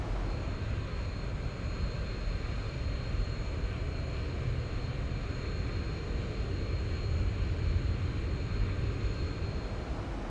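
Steady, loud jet engine drone from an airliner in the X-Plane 11 flight simulator, decelerating at about 10,400 feet on the arrival into Key West, running continuously and evenly throughout with no talk.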